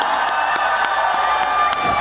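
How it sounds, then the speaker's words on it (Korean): Crowd at a persimmon festival in Sangju, Korea claps and cheers for a singer's performance, a steady wash of applause with scattered whoops and shouts, fairly loud and continuous throughout. "박수 한 번만 쳐주세요."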